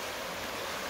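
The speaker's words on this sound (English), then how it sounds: "Because I love the sound of water." The River Stour flows beneath the canal aqueduct at Stourbridge, giving a steady, broad rushing wash of water that stays even and continuous throughout with no voices.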